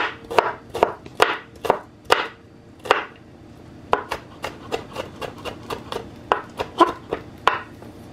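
Garlic is chopped for a ham and collar greens quiche, a knife striking a board in a loose series of sharp close chops, widely spaced at first and then quicker and more even.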